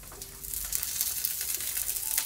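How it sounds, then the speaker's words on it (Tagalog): Vegetables including cabbage fry for Japanese yakisoba in a pan, a steady close sizzle with crackling pops, heard alone without talk. "Habang pinapry natin siya."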